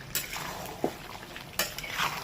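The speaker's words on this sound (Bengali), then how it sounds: "এবার আরও কষাতে হবে এটাকে" Garlic cashew chicken being stir-fried in a pan, with a utensil scraping and clinking against the metal in scattered knocks over a soft background sizzle, close by.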